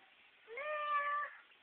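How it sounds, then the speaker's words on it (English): A single cat meow, clear and moderately faint, rising and falling over about a second in a quiet room. "Is that a cat?"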